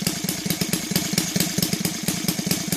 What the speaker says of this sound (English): it's still idling good